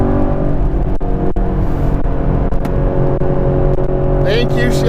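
A 2017 Chevrolet Camaro SS 1LE sports car drones along at steady speed, its engine and road noise loud and continuous from inside the cabin, with a voice speaking briefly near the end.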